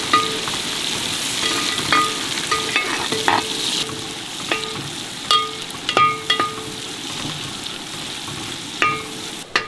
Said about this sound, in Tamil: நானூறு கிராம் அளவுக்கு பெரிய வெங்காயம். கிண்டுங்க